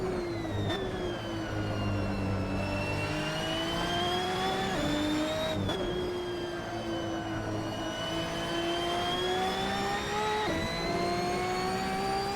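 Race car engine at full throttle in the sim racing game Assetto Corsa, a continuous high-pitched whine rising through the gears with brief dips at each shift, steady and loud.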